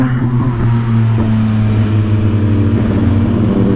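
A Suzuki GSX-R1000 1000cc motorcycle engine drones loudly and steadily while riding, a close, sustained buzzing hum with slight rises in pitch.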